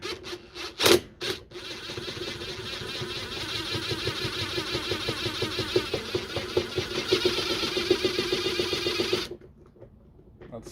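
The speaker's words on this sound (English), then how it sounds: "we barely have enough room on top right here to get our trusty little impact gun on there" An impact gun spins out a long bolt on a Whirlpool/Maytag washer, giving a steady, close buzzing rattle that runs for several seconds after a couple of sharp initial bursts, then cuts off abruptly.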